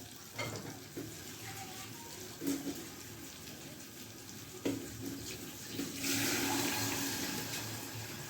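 Water poured into a pan of melted ghee for roasted stuffed pigeon rice, giving a hissing sizzle with splashing and stirring clatter, steady and close, swelling louder toward the end.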